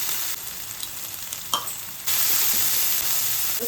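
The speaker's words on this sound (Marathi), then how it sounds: "त्याच्यात कढीपत्ता घाल, मिरची, लसूण, अद्रक वाटलेले ते घालूया" Curry leaves, green chili and ground garlic-ginger hit hot oil in a pan, tempering for potato cutlets. A steady close sizzle with a sharp spatter burst, then louder, denser frying once everything is in.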